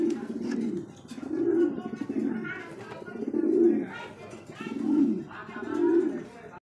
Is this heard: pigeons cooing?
yes